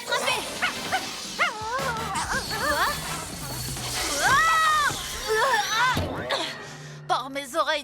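A cartoon dog yelps and whimpers in high, wavering cries over splashing water, with voices talking in French and an animated, cartoonish soundtrack throughout.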